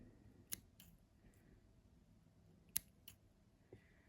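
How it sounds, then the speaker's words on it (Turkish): Small scissors snip the thread on a piece of Turkish needle lace, two crisp, quiet cuts a couple of seconds apart with faint handling clicks in a hushed room. "Burada artık ipimi kesiyorum."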